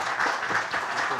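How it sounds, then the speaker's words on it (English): An audience at a disaster-planning panel applauds, a steady wash of clapping held at even volume across the moment. "could we give them a round of applause?"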